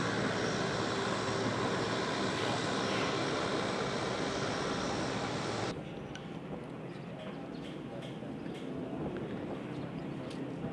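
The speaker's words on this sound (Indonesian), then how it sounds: "Api obor diterbangkan dengan menggunakan pesawat Hercules TNI Angkatan Udara." Hercules military transport aircraft of the Indonesian Air Force landing at an airport, a loud, steady turboprop roar that drops sharply partway through and settles to a lower rumble.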